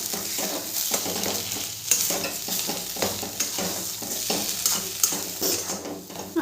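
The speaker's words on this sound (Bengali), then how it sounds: "দিয়ে ভালো করে মিশিয়ে নেব" Crushed dried red chillies being stirred into a potato filling in a pan, a steady run of scraping and stirring strokes over a soft continuous sizzle, close and moderately loud with no talking.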